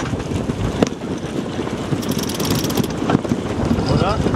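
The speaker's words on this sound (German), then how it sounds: "Mann, ist das ein Wind." Strong gusting wind buffets the microphone aboard a sailboat docking under sail into a berth, a steady rushing roar with creaks of rigging and winch mechanisms, while people talk intermittently nearby.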